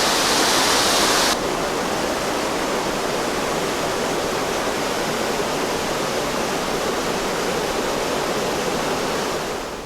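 Salmon Creek Falls on the Big Sur coast pours down in a loud, steady, broadband roar, close and continuous throughout, with a brighter hiss in the opening second and no voices.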